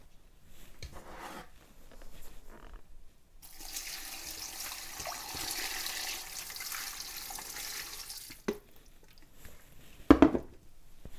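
Water for chicken broth poured into a cooking pot in a home kitchen, a steady rushing pour of several seconds, followed by a few clinks and knocks.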